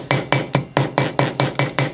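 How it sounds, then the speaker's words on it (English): Plastic face of a jeweler's hammer tapping the air flow ring of an Aspire Atlantis vaporizer, eight light, evenly spaced knocks in quick succession, close and crisp with no talking. "I'm going to use the plastic side of this jeweler's hammer."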